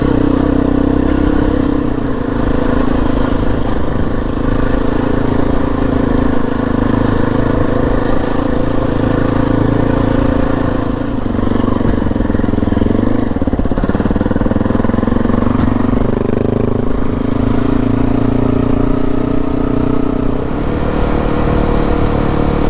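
Motorcycle ridden over off-road terrain, a steady engine drone with rough clattering and shifting pitch as the bike works across uneven ground, close and continuous throughout.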